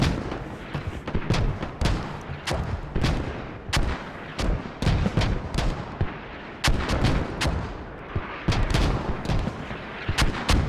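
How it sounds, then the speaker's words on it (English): Mortar fire in the video game Squad, with a series of loud, sharp booms at irregular intervals, some closer together, each ringing briefly over a rumbling battlefield bed, with no voices. "Mortars aggressively being used now as a last-ditch effort to close in all tickets"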